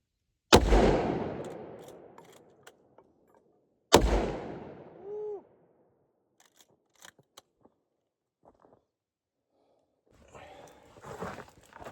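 Two sharp, loud 30-30 rifle shots from a Winchester 1894 several seconds apart, each ringing out with a long echoing decay across backcountry in western Canada, followed by faint clicks and handling noises.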